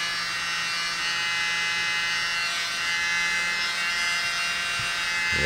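A small handheld mini blower runs with a steady, loud high-pitched whine and buzz, held at constant speed close up.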